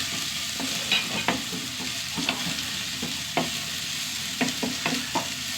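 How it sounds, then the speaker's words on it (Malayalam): Small shallots and a small onion sautéing in oil in a pan, a steady sizzle broken by repeated scraping and stirring clatters from a spoon, close up and with no talking. "ഇതിലേക്ക് ഒരു 6-7 ചെറിയ ഉള്ളി, ഒരു ചെറിയ സവാള, നന്നായി വഴണ്ട് വരാം."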